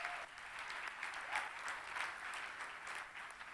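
Audience applause at a company's annual meeting, a sustained wash of many hands clapping, fairly even and somewhat distant, quiet overall.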